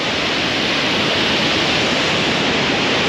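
Roaring broadband rush of a waterfall, loud, constant and enveloping, heard up close from underneath the falling water, with no voices.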